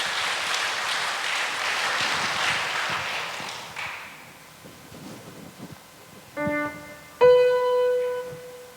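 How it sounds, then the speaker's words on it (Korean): Warm applause at a wedding blessing ceremony fills the room for several seconds, then tapers off, and a few clear sustained musical notes follow. "큰 환영의 박수를 올려주시면 감사하겠습니다."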